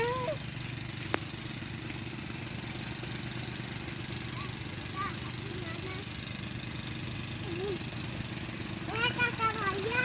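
A hand tractor cultivator engine runs at a steady low idle in the background, a continuous droning hum, while voices talk faintly nearby.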